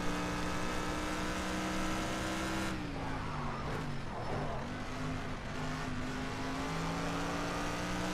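A racing video game car's engine drones steadily through a flying lap, its harmonic pitch dipping around mid-clip as it shifts or brakes and then climbing again, loud and continuous with no talking.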